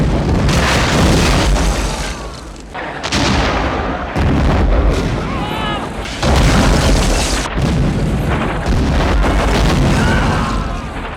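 French army cannons firing in a film battle scene, a dense run of loud booming blasts with rumbling aftershocks, several heavy shots close together and no talk.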